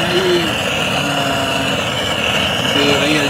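A Modenas Kriss 110 motorcycle engine runs close by in a workshop, a steady mid-pitched drone rising briefly in revs at the start and again near the end.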